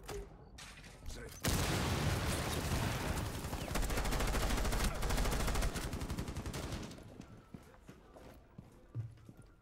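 A sudden loud burst of crackling, rattling blasts from a cluster charge detonating in a video game, like a chain of small explosions, rolling on for several seconds before fading into scattered pops.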